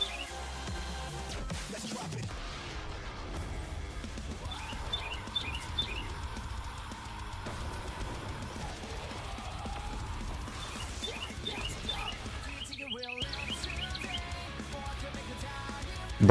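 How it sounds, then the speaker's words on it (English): Bird calls in the video game Minecraft: short, repeated chirps that come in scattered bursts over a steady background bed of game ambience, fairly faint and with no talking. "Bird noises."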